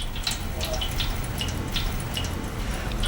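Hot water drips and trickles steadily into a basin for softening and unrolling birch bark, a continuous wet patter with small bright drip ticks over a low watery rumble, close and unaccompanied by voices.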